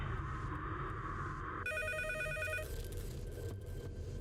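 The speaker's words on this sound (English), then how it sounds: "I realize my phone is ringing" A telephone ringing in a horror visual novel game, a bright repeated electronic ring pattern that starts after a quiet droning stretch, moderately loud and alone without speech.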